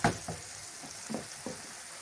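Peppers and a little tomato, salted, stew in oil in a pan with a soft, low sizzle, broken by a few quiet scrapes of stirring.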